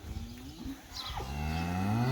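Cattle mooing on a livestock farm as calves are penned apart from their cows, long drawn-out bellowing calls close by and growing louder toward the end, with no talk.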